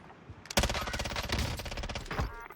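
Rapid automatic gunfire from a high fire-rate FINN LMG in the Call of Duty Warzone Rebirth Island video game rattles out in one dense sustained burst, loud and close, with brief changes in intensity near the end.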